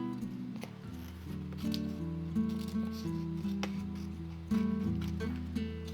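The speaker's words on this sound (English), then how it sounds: "they're little sewing scissors, fussy cutting scissors, and they are amazing for doing this kind of stuff" Small fussy-cutting sewing scissors snipping around a decor transfer for a thrifted lampshade, a series of quiet, close crisp snips over a low background hum.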